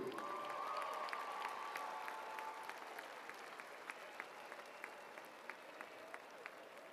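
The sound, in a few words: warm round of applause for Jody Lake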